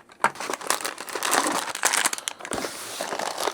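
Plastic parts bags rustle and crinkle as they are pulled out of a Mattel Brick Shop toy brick set box, close, busy irregular crackling.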